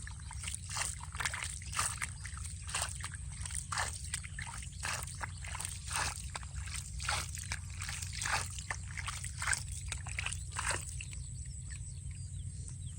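Water trickles and splashes steadily over a low rumbling background in a rice field, with irregular small sloshing bursts throughout and no clear talking.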